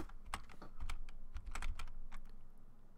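Quick, uneven keystrokes clatter on a computer keyboard during a gaming session, with sharp clicks in short bursts and brief pauses, close and fairly quiet, with no talking.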